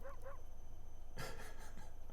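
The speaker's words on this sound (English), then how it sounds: "the sound effect of talking is woofing" Soft synthetic dog woofs used as talking sounds in a video game: a couple of quick yips at the start, then a brief louder burst, faint over a steady low hum.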